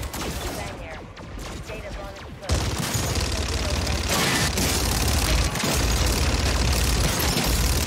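Dense, continuous gunfire and blasts from manglers in Call of Duty Modern Warfare zombies, starting moderate and jumping louder after a couple of seconds into a steady close barrage, with a voice talking throughout.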